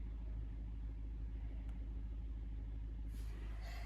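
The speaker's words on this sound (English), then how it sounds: "So we've started the car." Volkswagen Polo engine idling just after starting, a steady low rumble with an even throb, close and continuous, with a brief hiss near the end.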